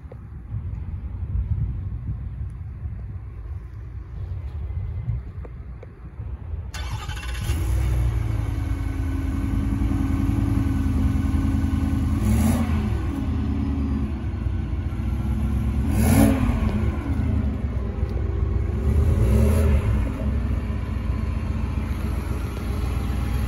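A 2024 Ford F-150 STX 4x4 pickup with the 5.0 L Coyote V8 cold-starts after several seconds of quiet cabin noise, catching loudly and settling into a steady, rumbling idle with a few brief revs rising above it.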